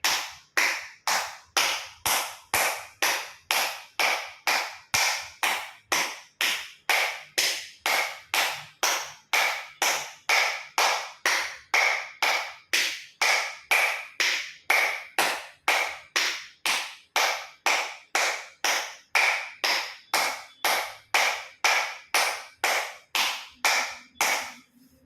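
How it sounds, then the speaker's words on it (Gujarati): Loud acupressure clapping with full palms, fingers and thumbs meeting, a long run of sharp, evenly spaced claps at a brisk steady rhythm, close and alone with no talk. "બંને હાથથી પૂરેપૂરા હથેળી અને આંગળા અંગૂઠા બધું ટચ થાય એ રીતે 50 વખત જોરથી તાળી આપીશું."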